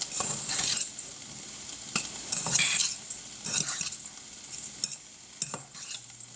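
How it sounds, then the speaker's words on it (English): Food being stirred in a pan for homemade chipotle bowls, with a soft sizzle and repeated scraping strokes of a utensil against the pan, close and moderately loud, no talking. "we're just gonna stir this, combine, make sure it tastes good"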